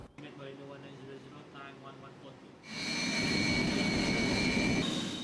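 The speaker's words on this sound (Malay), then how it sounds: "Pesawat tempur Transvector ini mampu terbang dengan kelajuan supersonik Mach 2" Sukhoi Su-30MKM thrust-vectoring jet fighter, a loud sustained engine roar that swells in abruptly partway through and holds steady, following a quieter stretch of background sound.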